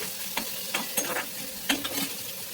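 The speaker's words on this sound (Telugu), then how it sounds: "ఆనియన్స్ చిల్లీ వేసుకోవాలి వాటిని కలుపుకుంటూ కొంచెం బాగా వేగినాక" Onions and chillies sizzle in hot oil in a pan while being stirred, with several sharp scraping strokes over a steady close frying hiss, no talking.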